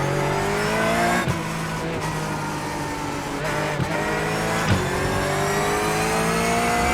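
A Porsche 911 GT3 Cup race car howls through its gears in iRacing at Interlagos, its engine pitch climbing steadily with sharp upshift dips, loud and close with no talk.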